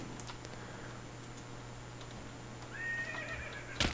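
A horse in the Minecraft Technic Pack video game gives a single clear whinny late in the moment, preceded by faint ticking clicks over a quiet hum, with a sharp click at the end.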